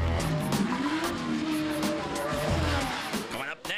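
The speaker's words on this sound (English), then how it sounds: "you can hear the engines in the background." Off-road race trucks tearing around the track at Miller Motorsports Park, engines roaring loud and near with whining, rising-and-falling revs and tire squeal, a continuous motorsport din with a voice faintly underneath.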